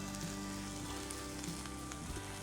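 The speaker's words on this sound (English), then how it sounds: "You guys can hear the sizzle." Chicken fajitas sizzle in a hot skillet, giving a steady, close hiss of frying that runs without a break and with no talking.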